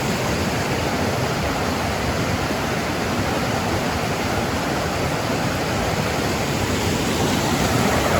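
Steady rushing water fills the scene, a continuous broadband roar of a river flowing close by on the Pacific Crest Trail, with no voices.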